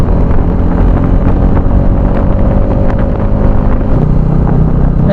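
Motorbike riding outdoors, with a loud continuous engine drone and heavy wind buffeting the microphone throughout, steady and close.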